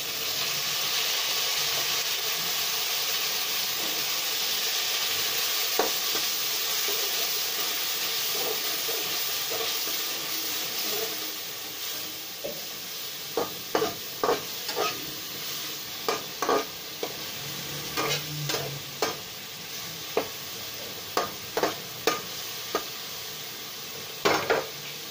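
Chopped tomatoes and onions fry for a masala for chana daal, a steady close sizzle that later carries regular scraping, clinking stirring strokes against the pan, with no voices.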